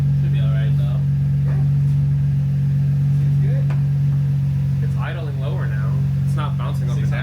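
A 2004 Infiniti G35 Coupe engine idles with a steady low hum close by after maintenance, while people talk intermittently over it.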